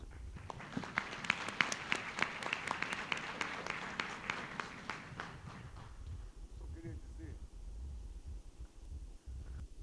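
An academic symposium audience claps in homage, a crisp run of distinct claps that merges into steady applause and then fades to faint room noise and low rumble.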